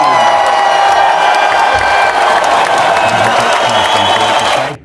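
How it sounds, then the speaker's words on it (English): A crowd at a celebration assembly claps and cheers loudly and steadily for several seconds, with whoops mixed in, before the noise cuts off abruptly. "Let's give him a big Newton. A round of applause!"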